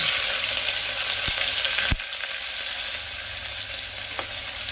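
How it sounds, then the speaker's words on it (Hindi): Four medium onions added to hot oil with dry-roasted crushed whole spices for a Bihari green peas dish, frying with a steady close sizzle and a sharp hiss as they drop in, then settling to a softer crackle. "अब इसमें मैं ये 4 मध्यम प्याज को डालूंगी"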